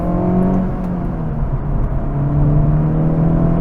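The turbocharged engine of a 2024 Acura Integra Type S hums and builds steadily, a continuous rising drone heard from close up with no voices.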